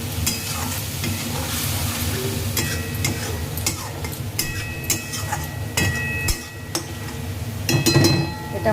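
Spice masala paste, salted, sizzles and fries in a pan while a spoon stirs and scrapes it steadily, with occasional clinks of utensil on metal, close and continuous throughout.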